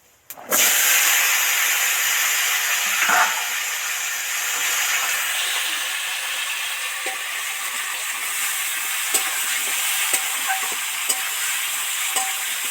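Potatoes and tomatoes drop into hot oil with panch phoron and sizzle loudly and steadily, a constant bright frying hiss with occasional stirring clicks and pops from the pan.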